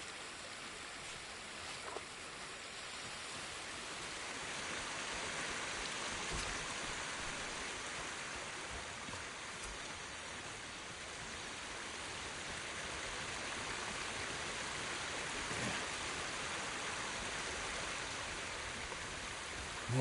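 Waterfall in the video game Ghost of Tsushima, a steady rushing wash of falling water with gentle swells in intensity and no voices.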